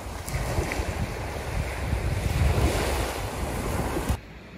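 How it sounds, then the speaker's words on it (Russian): Waves on the calm Baltic Sea wash against the shore at Yantarny near Kaliningrad, a continuous surf rush mixed with wind buffeting the microphone, which cuts off abruptly near the end. "Какой кайф вот так просто посидеть, послушать шум моря."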